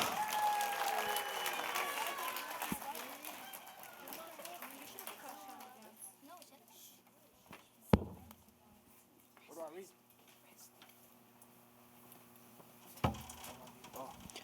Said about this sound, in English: Let's have another round of applause for our orchestra.